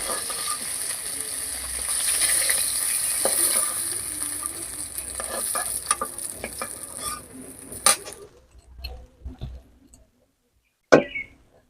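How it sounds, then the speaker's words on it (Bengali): Green banana pieces frying in hot oil after fish, a steady close sizzle for about eight seconds, then stopping, leaving a few sparse clicks and clatters of utensils and one sharp knock near the end. "আমি কাঁচকলাগুলোকে ওই তেলের মধ্যে একটু ভেজে নেব"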